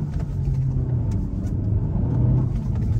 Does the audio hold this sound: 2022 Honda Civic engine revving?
yes